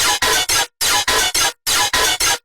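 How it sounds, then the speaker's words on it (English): Harsh, ear-piercing synthesized sounds from the Antichroma synth, played as loud, dense broadband bursts in a choppy rhythm of short blasts separated by silent gaps. "So these are really special and ear-piercing sounds"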